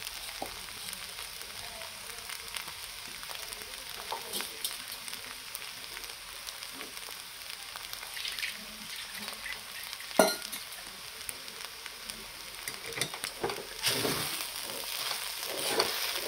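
Sabudana khichdi fries in a pan over a very low flame while a spatula stirs it. A soft, continuous sizzle runs throughout, and scraping strokes come through now and then, growing louder toward the end.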